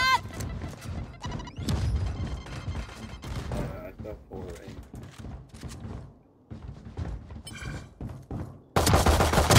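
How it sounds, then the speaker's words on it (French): Grenade blast and gunfire during a Valorant match on a new map: rapid shots and sharp impacts over continuous voice chat, ending in a loud, dense burst of noise. "Grenade."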